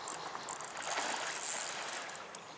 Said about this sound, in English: Now, reel him in.